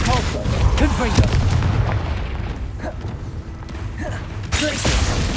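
Blasting spell cast during combat in Hogwarts Legacy, several booming impacts and crackling bursts layered over a busy, continuous game soundscape with music.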